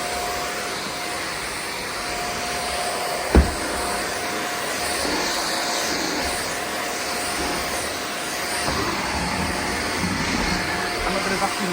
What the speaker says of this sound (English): This vacuum cleaner is quite pleasant to use.